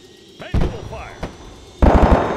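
Vehicle gun turret fire in Arma 3, sharp loud bangs at intervals followed by a rapid burst of shots near the end, with a voice speaking in between.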